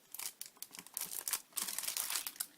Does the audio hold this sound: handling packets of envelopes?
yes